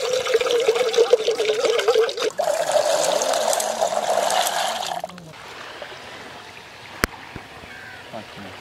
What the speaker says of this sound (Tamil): இன்றைக்கி பற்றை கருவாட்டு குழம்புக்கு பார்த்தீங்கன்னா மொச்சக்காய் ஊற வைக்க போகிறோம்